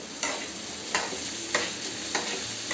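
A metal spoon stirs salt and spices in a hot cooking pan with about four evenly spaced scraping strokes over a soft background sizzle, close and moderately loud, with no voices.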